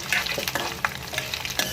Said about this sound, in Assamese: এই সকলোবোৰ একেলগে দি দিম তেলত। আৰু এয়া ভালদৰে ভাজ খোৱালৈকে ভাজি ল'ব লাগিব।